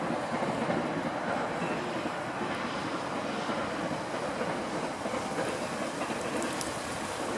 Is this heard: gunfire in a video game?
no